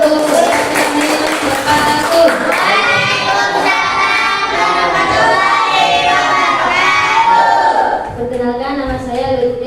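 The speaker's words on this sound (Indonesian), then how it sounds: "Tepuk tangan dulu" Classroom of primary schoolchildren clapping and cheering together, a loud, dense burst of shouts and claps lasting several seconds before it thins and an adult voice starts talking.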